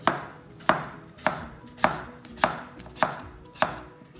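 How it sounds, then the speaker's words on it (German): A knife chops a cucumber into fine strips on a cutting board, giving seven or eight crisp, evenly spaced knocks at a steady, unhurried rhythm, close and clear with no talking. "jetzt schneiden wir die Gurke in so feine Streifen, damit so kleine Würfel entstehen"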